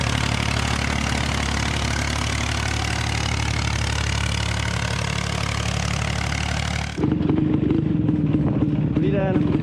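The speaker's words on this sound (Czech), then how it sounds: "V české vesnici český traktor." A Czech tractor engine idles steadily with a deep, continuous chugging drone, then the sound shifts abruptly to a rougher, closer rumble with a tonal whine near the end.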